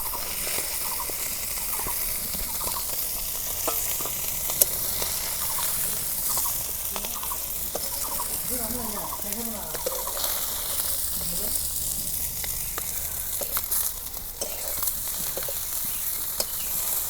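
Tilapia fish fries in oil in a pan with a constant crackling sizzle, close and steady, while faint bird-like or voice-like sounds rise briefly in the middle.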